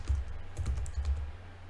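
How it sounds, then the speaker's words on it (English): Faint, quick keystrokes on a computer keyboard tap in a loose burst over a low, steady background hum. "I was just typing in stuff like"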